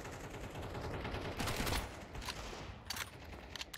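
Rapid bursts of Mac-10 submachine gun fire from Counter-Strike 2, close and loud, with a dense volley mid-clip and a few sharper scattered shots near the end.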